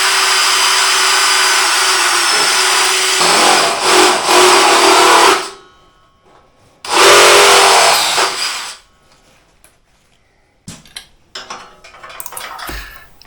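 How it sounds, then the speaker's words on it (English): A drill bores into a steel bicycle chainstay in a welding shop, a loud, harsh whine in two long bursts separated by silence, followed by faint clinks and handling noises. "Normally I would have drilled these holes prior to doing any of the welding, but I forgot."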